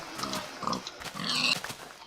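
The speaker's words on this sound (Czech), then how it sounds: "Prasátka." Pigs grunt and oink in Minecraft 1.0, a few short snorting calls in quick succession, fairly loud and close over game background noise.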